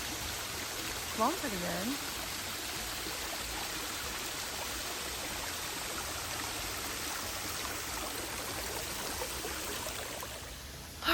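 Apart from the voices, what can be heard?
small waterfall on the Appalachian Trail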